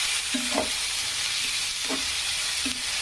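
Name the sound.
finely chopped white onion frying until golden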